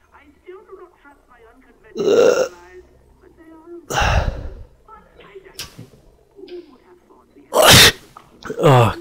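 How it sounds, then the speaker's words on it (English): A voice makes several loud, sudden sneezes, with softer sniffs and gasps between them, all close to the microphone. "Oh, I've got to sneeze."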